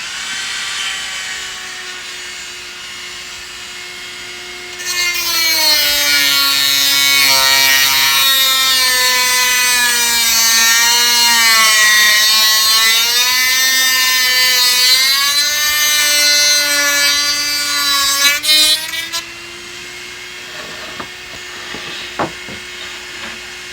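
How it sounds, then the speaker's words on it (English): A Dremel cutoff wheel cutting the center rail of model railroad track, a high rotary whine that rises and bogs as it bites for about fifteen seconds, loud and close, between quieter idle spin-up and spin-down. "we're going to use the Dremel cutoff wheel, and we're going to cut that center rail out right at the locations that we marked"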